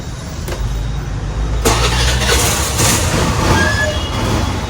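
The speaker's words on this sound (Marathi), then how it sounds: "Start करून दाखवतो मी तुम्हाला गाडी" A motorcycle engine turns over and settles into a loud, steady rumbling idle very close by, with no voices.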